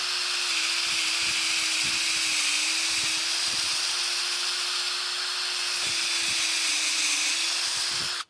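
A Ryobi cordless drill runs steadily for about eight seconds, a close, continuous whirring whine with a broad hiss, then cuts off abruptly at the end.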